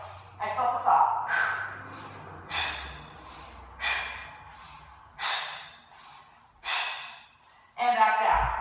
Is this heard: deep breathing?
yes